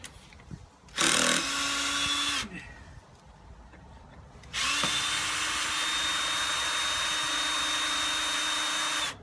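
An electric drill removes long screws from a clamp on a sand filter valve, whirring in two bursts, a short one then a long steady run, loud and close with a high-pitched whine.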